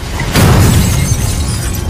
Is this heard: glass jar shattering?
yes